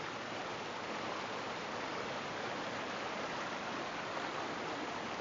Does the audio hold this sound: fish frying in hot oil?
no